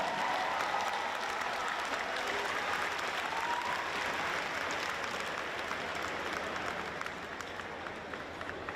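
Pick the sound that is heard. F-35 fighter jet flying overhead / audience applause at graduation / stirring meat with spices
audience applause at graduation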